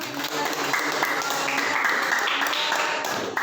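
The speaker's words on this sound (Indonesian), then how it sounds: "Yang lain tepuk tangan." Steady applause from a classroom of students, dense and continuous clapping at moderate loudness for a few seconds without talk.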